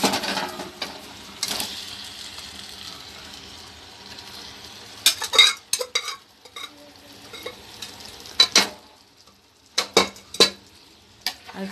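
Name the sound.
beef added and stirred into pot for Kerala dum biryani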